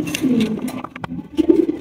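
Pigeons coo up close in low, throaty, rolling phrases, with a brief pause between two bouts of cooing.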